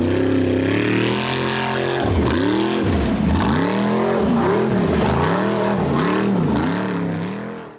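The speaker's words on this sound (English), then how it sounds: "The pink buggy number 31 tried to accelerate up a steep sand dune" Pink off-road buggy number 31 accelerating hard up a steep sand dune at a hill climb, a loud close engine roaring and revving in repeated rising and falling surges that fade out at the end.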